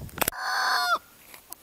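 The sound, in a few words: free-range chickens and rooster in orchard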